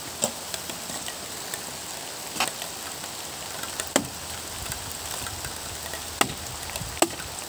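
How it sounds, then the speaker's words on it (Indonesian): Heavy rain falls around a field hut in a steady, broad hiss, with a few louder drips or knocks striking nearby at irregular moments and no talk. "udah hujan deras"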